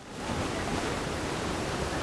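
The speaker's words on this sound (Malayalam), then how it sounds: "കാലവർഷം കനത്തതോടെ അഴിമുഖത്ത് നല്ല കാറ്റും തിരമാലകളും ഉള്ളതുകൊണ്ട്" Monsoon wind and waves churn at the Kochi estuary beside the Fort Kochi–Vypin ro-ro ferry, a dense, unbroken roar of rushing water and gusting air, loud and close.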